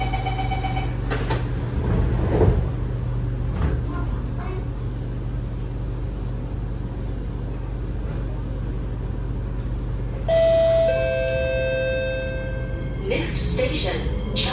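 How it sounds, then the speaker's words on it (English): An SMRT KNS C751B train runs from Tanah Merah toward Changi Airport while its doors close: a short run of chime tones rings out over the steady low rumble of the carriage interior. "doors are closing."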